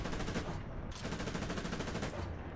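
Tank gunfire in War Thunder from an AMX-30 (1972) battle: continuous rapid automatic fire at steady volume, loud and dense for the whole stretch.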